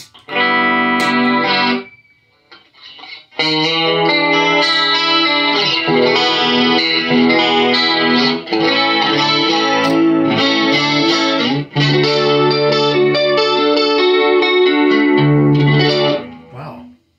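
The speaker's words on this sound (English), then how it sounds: "First we'll use the analog chorus." Electric guitar strummed chords through a budget analog chorus pedal, shimmering, thick and wavering, played loud with a short pause near the start.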